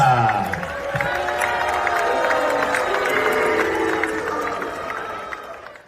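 A crowd at a high school track meet in the stands of an outdoor stadium keeps up a loud, sustained roar of cheering, shouting and scattered whoops, with voices blending throughout.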